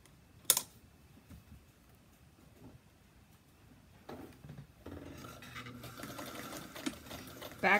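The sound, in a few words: sewing machine stitching a fabric bowl cozy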